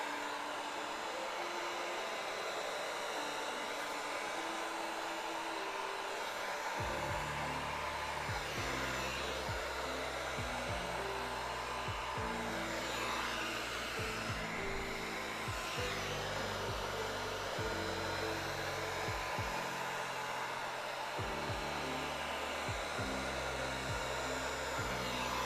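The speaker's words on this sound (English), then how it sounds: "We're like halfway done with heat treating everything." A heat gun runs with a continuous loud blowing whir while heat treating a prop, and a low droning hum shifts in pitch beneath it throughout.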